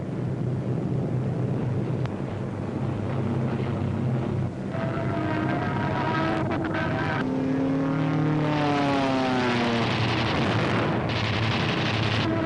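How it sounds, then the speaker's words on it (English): P-47 fighter planes and heavy bombers in wartime flight, a loud continuous propeller-engine drone that rises and falls in pitch, with no talking. "German fighters attempting to intercept the heavy bomber attack are shot down by P-47s"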